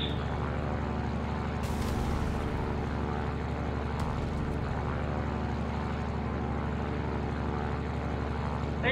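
Airplane in a flight video game over the Austrian Alps, a continuous steady propeller and engine drone with a brief whooshing burst near the start.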